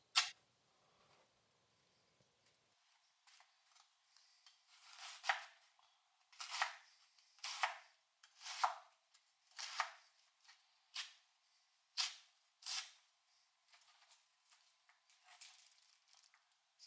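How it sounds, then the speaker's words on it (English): A knife cuts cabbage on a board for coleslaw in a steady series of faint, crisp chops about one per second. "the rest I'm just going to cut up for coleslaw"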